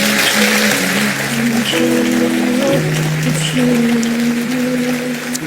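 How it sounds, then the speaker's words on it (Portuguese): A church congregation applauds during a worship service. The steady wash of clapping continues throughout, blended with sustained music tones, and no one speaks over it. "você pode dar um forte aplauso a Jesus"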